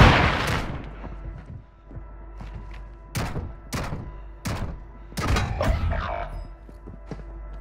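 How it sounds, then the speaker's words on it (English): Flash grenade detonations in Call of Duty, a series of sharp, loud bangs spaced a second or so apart, each with a short ringing tail, over a low background rumble. "I'm throwing flash grenade!"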